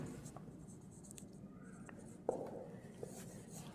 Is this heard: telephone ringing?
no